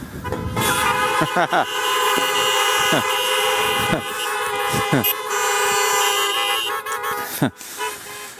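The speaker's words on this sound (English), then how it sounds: "Honk if I'm live." Repeated car horn honks, short toots scattered through a loud, busy street scene with voices and traffic around.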